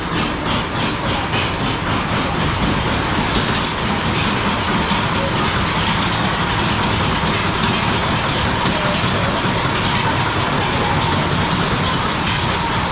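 A roller coaster train at Legendia in Poland starting up its lift hill straight out of the station, a loud continuous mechanical rumble and rattle with dense broadband noise that holds steady throughout, close and without talk.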